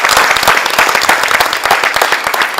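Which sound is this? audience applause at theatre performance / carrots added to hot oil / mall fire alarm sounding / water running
audience applause at theatre performance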